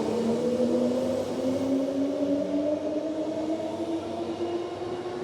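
A four-car passenger train departs at night on Perth's Thornlie-Cockburn line near Beckenham, its motor whine rising steadily in pitch over a continuous loud rolling rumble, close by with no voices.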